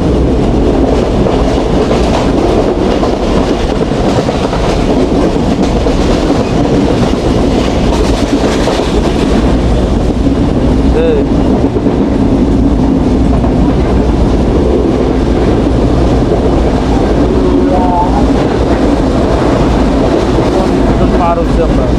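The Banalata Express, a nonstop Dhaka to Rajshahi train, runs on rails with a loud continuous rumble and rhythmic clickety-clack, heard from inside, with some voices faintly underneath.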